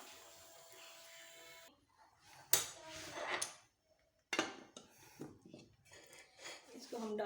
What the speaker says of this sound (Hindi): इसको हम डालेंगे प्लेट में।